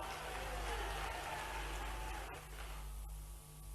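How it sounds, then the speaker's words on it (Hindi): A crowd at a political rally claps in sustained, dense applause, steady and fairly far off, with a faint hum underneath and the applause thinning slightly toward the end. "ताली वाली बजा के बताना।"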